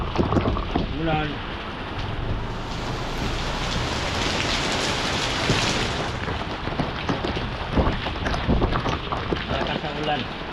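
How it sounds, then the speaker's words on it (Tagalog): Heavy rain pours down in a steady hiss in the Baseco port area of Manila, spattering on surfaces nearby, while people talk intermittently beneath it. "Malakas ang ulan."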